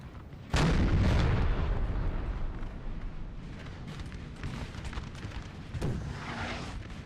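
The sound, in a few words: artillery fire in video game Napoleon: Total War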